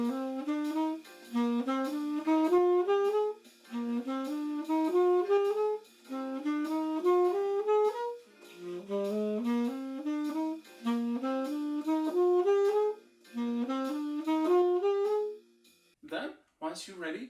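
A scale runs upward from the 5th to the 4th over a II-V-I progression, played clearly and alone in rising phrases of even notes with short pauses between them. A brief noisy rustle closes it.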